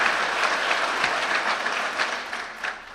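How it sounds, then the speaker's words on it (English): Brief burst of dense crowd clapping from a college convocation audience honoring a Beacon Award, loud and continuous and fading slightly toward the end. "that deserves a round of applause."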